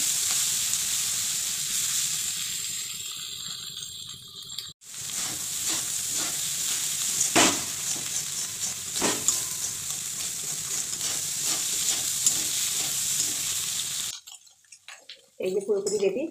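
An onion, scallion and egg bhujia sizzles and crackles in a pan while it is stirred with scraping strokes. Sharp clatters from the utensil stand out, some talk is heard, and the frying cuts off near the end.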